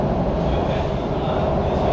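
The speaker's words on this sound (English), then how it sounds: "I know it's really loud, right? So, please excuse the subway." Loud subway train riding along, a dense steady rumble with continuous broadband rail roar filling the whole clip, close and unbroken.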